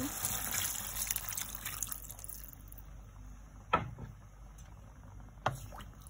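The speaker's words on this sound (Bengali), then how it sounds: "এখানে আমি কিছুটা পানি ঢেলে দিব।" A short gush of water pouring into a pot of bottle gourd and prawns fades away, followed by two brief splashy knocks, fairly quiet and close.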